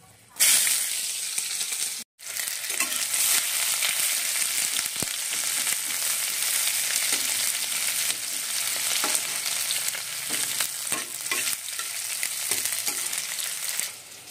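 Chopped onion goes into hot oil with bay leaf and dried chillies for a masoor dal chorchori, a loud close sizzle that surges, briefly cuts out, then crackles steadily with occasional stirring.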